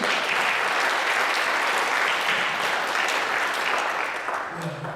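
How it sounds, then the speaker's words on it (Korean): Congregation applauding in a church service, a continuous wash of many hands clapping, even and full, tapering gently toward the end. "주님께 영광의 박수 한번 더 드립니다"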